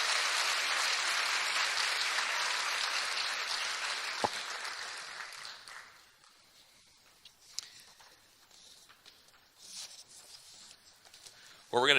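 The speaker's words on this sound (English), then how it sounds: "Let's give all of our girls a big round of applause again" An audience claps for Junior Miss pageant contestants at a street festival pageant, a full burst of applause that thins out midway and fades into scattered claps and quiet room noise by the end.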